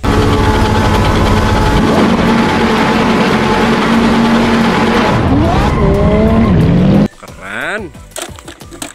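A toy Lamborghini race car plays a loud, close electronic revving engine, then rising and falling tire-squeal and skid effects, ending in a short burst of quieter rattling clatter.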